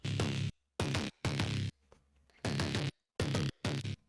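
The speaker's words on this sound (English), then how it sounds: "Then, you know, our pluck's gonna sound like this." Bright synth plucks from a mid-tempo electronic track, layered with a phaser-flanger texture, sounding in short chopped bursts separated by brief gaps of silence.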